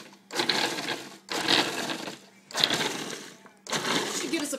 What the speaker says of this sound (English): I'm going to put these into the food processor, peel and all, and I'm going to grind them up